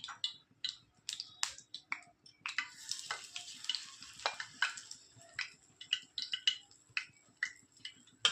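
Urad dal (biuli dal) pakoras dropped one by one into hot oil, giving bursts of crackling sizzle and sharp pops in an irregular rhythm, close and fairly loud.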